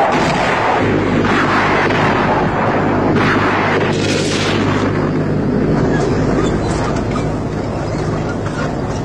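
Rocket and bomb strikes from Soviet MiG-27 jets on moving targets during a military exercise, a continuous loud rumble of overlapping blasts and deep booms, with a narrator speaking over it.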